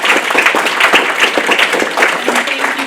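An audience claps after a panel conversation about aging and cancer, a loud, close, rapid patter of many hands that stays even for the whole stretch.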